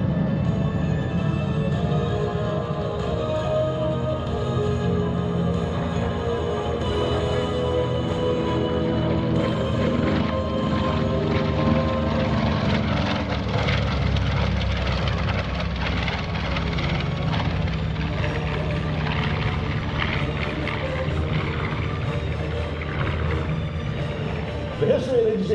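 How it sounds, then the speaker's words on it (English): A B-25 Mitchell bomber flies past at an airshow at Joint Base McGuire-Dix-Lakehurst in New Jersey, giving a steady, rumbling piston-engine drone, mid-distance and sustained under an announcer talking over a public address system. "From your left, the B-25 Mitchell."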